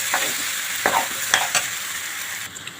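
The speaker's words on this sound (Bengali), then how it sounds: "এখন নেড়ে করে মশলাগুলো কষিয়ে নেব।" Ground spices being stirred and fried in oil for a potato curry (alur dom), with scraping stir strokes over a steady close sizzle, no voices.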